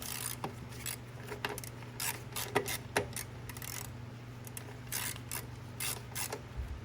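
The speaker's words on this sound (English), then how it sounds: "we'll just put it back on with the ratchet" Ratchet clicking as it tightens a bolt on a Craftsman M110 mower, quiet, close, irregular bursts of sharp clicks and metallic creaks with no talking.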